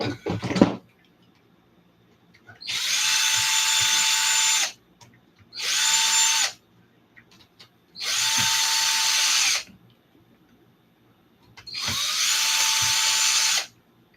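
A power driver runs screws into an Arrma RC car during a repair, four sustained whirring bursts of about one to two seconds each, separated by short pauses, loud and close with no talking.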